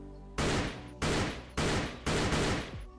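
An SG553 rifle fires in Unturned: four loud, close bursts in quick succession, each a dense crack with a brief tail before the next.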